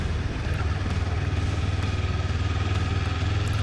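A 2018 Kawasaki Ninja 400 motorcycle engine runs steadily with a loud, throbbing low rumble and a fast regular pulse, heard on its own without any talk.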